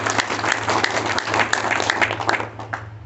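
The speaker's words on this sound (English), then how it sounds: "applause, applause" An audience at a fan convention applauds steadily, a dense wash of many hands clapping at close range that fades slightly toward the end, with a low steady hum underneath.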